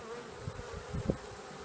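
Honeybees buzz around a Queen Victoria top bar hive while combs are handled, a steady close hum with a few brief louder passes.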